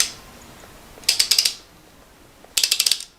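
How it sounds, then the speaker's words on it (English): A torque wrench ratchets on the bottom bracket of a Schwinn Airdyne exercise bike, giving two close bursts of quick, crisp clicks separated by a short pause. "we just insert the torque wrench right here, and we start rotating"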